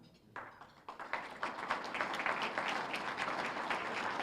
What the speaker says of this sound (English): I would like you all to be applauded.